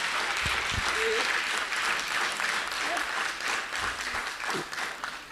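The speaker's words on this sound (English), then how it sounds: "Can we give a big round of applause to her?" At the inauguration of a blind cricket World Cup conclave, an indoor audience gives a steady, full round of applause that holds evenly and eases slightly toward the end, with a few faint voices underneath.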